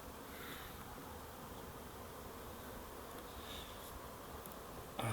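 Bees buzz in a steady, dense drone around beehives, a continuous swarm sound with no pauses and no voices.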